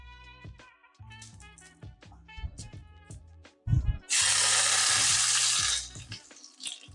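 Oil poured into a heated frying pan before searing sous-vide steaks bursts into a loud, hissing sizzle for about two seconds, preceded by light clicks and clatter from the pan and utensils.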